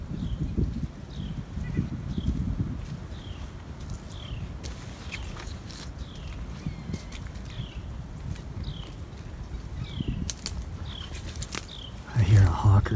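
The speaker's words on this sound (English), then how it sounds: "I hear a hawk or an eagle." A hawk or eagle calls repeatedly in a forest, short faint cries spaced every second or so at a distance, over low rustling and movement.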